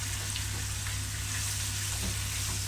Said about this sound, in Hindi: अनियंस को हम लाइट गोल्डन फ्राई कर लेंगे।